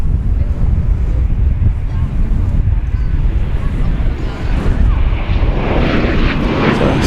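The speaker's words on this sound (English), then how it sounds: "Arriving now from Reno, Nevada, is American Flight 1911." An American Airlines Boeing 737-800 from Reno arrives at DFW airport, its engine rumble swelling toward the end against heavy wind buffeting, with a voice talking over it.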